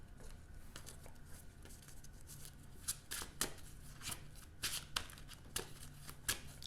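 Playing cards drawn and handled during a Marvel Champions tabletop game, with a string of quiet, crisp flicks and slides of card stock over faint low background hum, and no voice.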